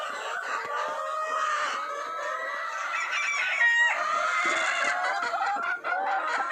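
A flock of BB38 chickens clucking close by, a busy overlapping chorus of clucks and squawks with a rooster-like crow partway through, no one talking.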